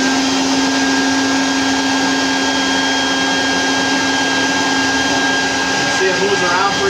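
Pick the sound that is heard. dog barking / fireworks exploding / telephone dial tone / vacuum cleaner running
vacuum cleaner running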